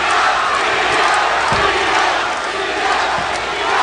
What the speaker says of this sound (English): Crowd chanting for Juan Diaz, trying to bring him home in this extremely difficult 12-round fight.